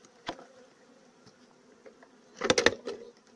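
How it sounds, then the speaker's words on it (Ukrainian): Bees being driven into a small ventilated container at an apiary give a faint, thin buzz, broken by a few soft knocks and a short cluster of louder taps near the end. "Заганяємо бджіл. в Контейнер."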